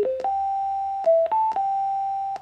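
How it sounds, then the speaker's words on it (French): An Inateck waterproof Bluetooth speaker plays its power-on chime: a short series of clear, pure electronic tones stepping in pitch, each starting with a soft click, close and alone. "Lorsque vous entendez cette douce sonnerie, cela veut dire que l'enceinte est bien allumée"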